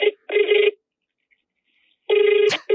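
A phone ringtone on an outgoing call, two loud electronic ring bursts separated by a silent gap, close and clear with no talk.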